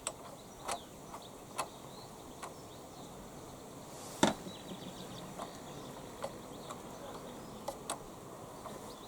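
Small screw and washer being refitted to the float bowl on the bottom of a carburettor, heard as sparse faint ticks and clicks with one sharper metallic tap midway, close and quiet.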